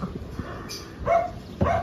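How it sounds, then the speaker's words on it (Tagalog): A dog barks twice in the background outdoors beside a lettuce garden, sharp moderately loud barks spaced about half a second apart over faint ambient noise. "Pasensya na may yung aso."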